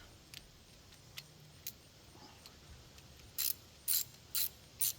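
A ratchet strap is cranked tight while an ash tree is being felled, first a few faint scattered clicks, then four loud, evenly spaced ratcheting bursts close by, with no talking.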